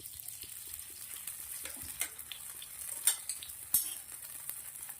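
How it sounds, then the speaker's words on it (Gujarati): Desi ghee sizzles in a pan while being stirred, giving a soft steady frying hiss with a few sharp clicks of a utensil against the pan, faint and close. "ઘી નાખું છું."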